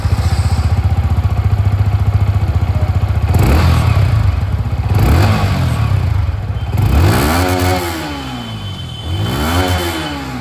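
Yamaha MT-15 version 2.0 motorcycle exhaust, loud and close, idling with a steady rapid thump before several sharp throttle blips that rise and fall in pitch, no talking.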